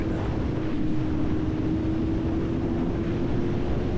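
A boat engine at very high revs, held above 7,000 RPM on a ride to Petty Harbour, gives a steady, loud droning whine mixed with heavy wind and water rush, continuous throughout with no talk.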